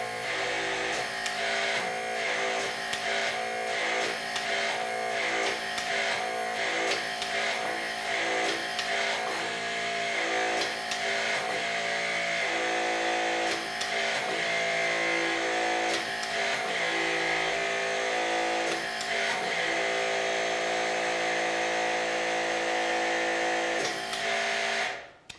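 A HYTORC MXT Plus hydraulic torque tool runs with its Vector pump driving a HYTORC nut system, giving a steady, loud mechanical whine and hum with repeated rhythmic pulses throughout, close by and without speech.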